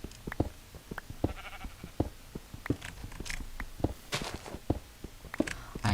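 Minecraft sheep bleating in a video game, several short digital bleats over rapid clicking and blocky footstep noises, close and moderately loud.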